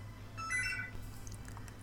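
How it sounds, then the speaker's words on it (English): In the F1 2012 racing game, a phone rings with a short electronic tonal chirp, a single brief ring over a low steady hum, fairly quiet. "And now the phone's going."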